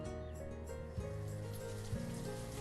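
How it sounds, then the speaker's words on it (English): Steady rain hisses over a soft music bed in the city-building game Banished, a continuous patter that stays even and moderately loud throughout with no voices. "Goddamn rain."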